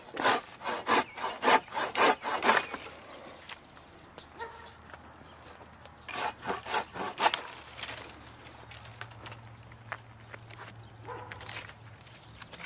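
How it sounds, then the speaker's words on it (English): A coarse-tooth pull saw cuts through a tree branch in quick rhythmic strokes, two bursts of rapid sawing separated by a pause, close and crisp, with a faint low hum beneath. "I switched back from my fine tooth pruning blade, pull saw blade, to my coarse tooth. Much faster cut."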